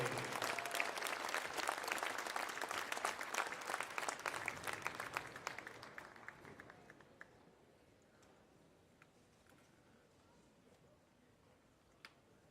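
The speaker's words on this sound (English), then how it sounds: "let's have a round of applause for all of our senior cheerleaders this evening." A gym crowd at a high school boys basketball game between Armstrong and Freeport applauds senior cheerleaders. Steady, dense clapping fills the first six seconds, then thins to scattered claps and near quiet, with one last sharp clap.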